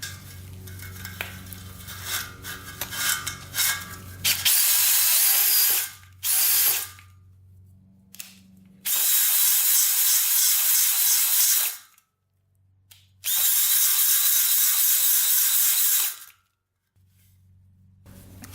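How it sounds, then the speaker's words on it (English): Brake cleaner sprayed onto a vintage dirt bike cylinder in three long, loud, steady hissing bursts, separated by silent gaps and some clattering handling noise beforehand, close up. "I sprayed it all out with brake cleaner."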